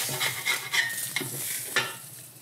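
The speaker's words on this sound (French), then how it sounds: "Je vais tasser la poêle pour pas cramer la boulette en plus." A smash burger patty sizzles in a frying pan, a steady bright hiss with a few scraping stirs and pan knocks, close and fairly loud throughout.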